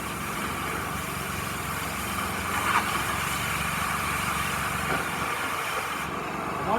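An oxy-acetylene cutting torch melts the corner off a piece of metal, giving a steady, loud broadband hiss and roar that holds evenly throughout with small flares, alone without talk.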